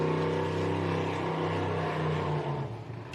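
A race car at the Gundy 500 pulls away with a loud, steady engine roar that holds strong for most of the moment, then eases off slightly near the end.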